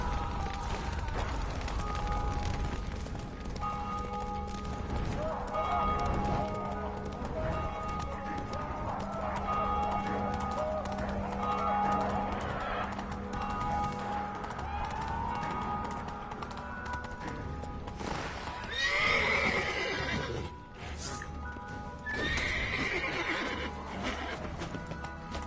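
Roach, a horse in The Witcher video game, gallops with steady clip-clopping hooves and gives loud whinnies and neighs partway through, over a continuous game music and ambient background.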